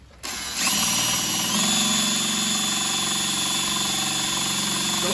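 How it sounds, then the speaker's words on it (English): A power drill bores through the metal roof of a 2006 Chevrolet Impala during a sunroof leak repair. It spins up after a brief pause, then holds a loud, steady whining grind close by, with no talking. "Supposed to go slow and put pressure. If you don't see any metal flakes coming off, it ain't drilling."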